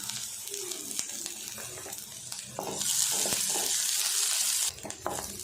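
Chopped garlic and onion sautéing for a Chettinad-style radish sambar, a soft sizzle with occasional stirring clicks and a louder hissing stretch midway, heard close with no talking.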